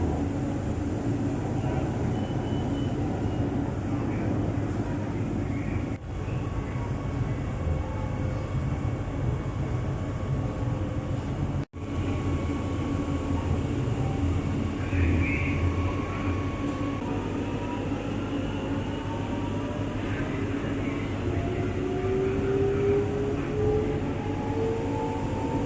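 Jakarta LRT light-rail train rumbling steadily along the track through a sharp curve, with continuous wheel and motor noise, faint high squeals of wheels on the bend, and brief dropouts in the running sound.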